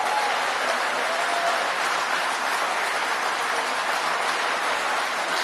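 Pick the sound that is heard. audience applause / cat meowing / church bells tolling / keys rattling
audience applause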